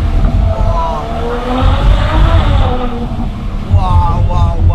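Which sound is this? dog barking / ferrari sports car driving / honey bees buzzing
ferrari sports car driving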